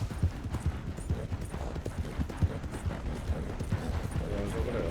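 Hooves clip-clopping steadily as a horse is ridden in a video game, a rhythmic run of muffled thuds beneath game music and ambience while voices speak over it.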